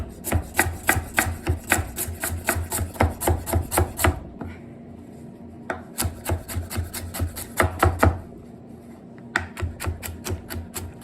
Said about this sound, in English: I forgot to slice the carrot